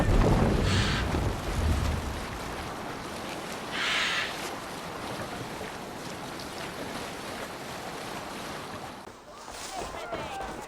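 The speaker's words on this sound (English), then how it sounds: "We need to row our way out." A Viking longship heads out to sea in Assassin's Creed Valhalla, with a steady wash of water and wind around the hull, faint splashes and low voices under the ocean noise.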